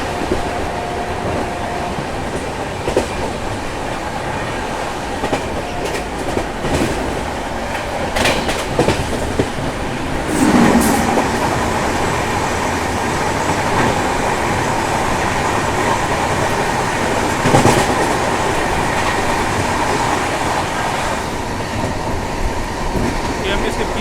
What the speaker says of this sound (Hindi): सामने से आ रही है train number 12036 कोटनगरी junction Nagdi express जो चलती है हमारे कोटनगरी जंक्शन से टनकपुर के बीच